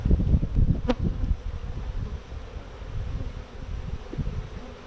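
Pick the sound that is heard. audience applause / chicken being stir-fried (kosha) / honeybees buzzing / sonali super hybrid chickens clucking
honeybees buzzing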